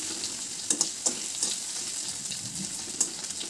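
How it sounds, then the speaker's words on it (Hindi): Potatoes frying in hot oil in a home kitchen for egg curry, a steady close sizzle with occasional sharp pops and spatters throughout. "इधर आलू है तो आलू को भी हल्का फ्राई कर लेती हूँ"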